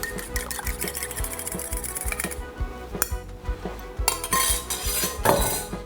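Eggs get mixed into cooled potatoes in a bowl, a close run of rapid, regular clinks and scrapes of a utensil against the bowl with short pauses and no talk.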